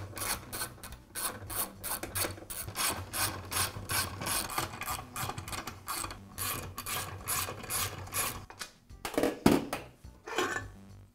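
Bolts securing the guide fence of a Makita miter saw are loosened and backed out, a run of quick ratcheting clicks and metallic rattles close up, pausing briefly near the end before a few louder clanks.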